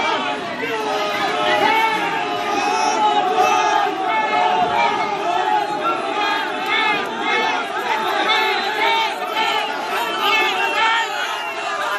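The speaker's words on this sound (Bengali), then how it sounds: "চোর চোর স্লোগান ওঠে।" A large crowd outside a court chants 'thief, thief' slogans at Saokat Molla, many voices rising and falling together in a steady, loud, rhythmic chant that continues throughout.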